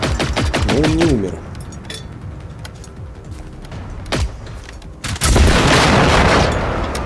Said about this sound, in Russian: Со второго выстрела вроде взорвался